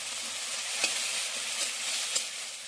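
Ginger, onion and garlic paste fries in a kadai with a constant loud sizzle, broken by a couple of soft scraping stirs from a spoon.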